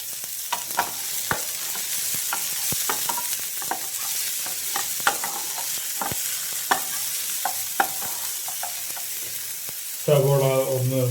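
Chopped onion, green chili and garlic sizzle steadily in a pan with oil. A spoon strikes and stirs now and then, and a short burst of music comes in near the end.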